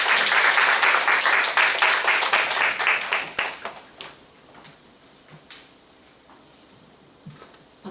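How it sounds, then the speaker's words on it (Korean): Audience applause at a church youth lecture, a loud, dense burst of clapping that gradually thins out into scattered claps and fades over several seconds. "박수 주세요."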